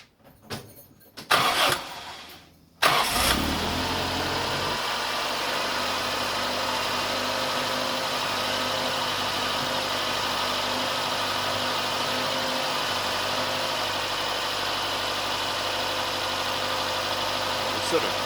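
A home-built car engine cranks through a few rough bursts, catches and starts, then settles into a steady, loud, close idle with a constant rumbling hum that carries on to the end.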